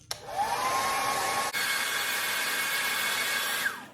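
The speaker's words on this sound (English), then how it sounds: "we're going to hit that with a hairdryer before we start with our next color" A hair dryer blows steadily at close range to dry paint on a handmade bluegill fishing lure. It runs for about four seconds, with a brief dip partway through, then a falling whine as it switches off near the end.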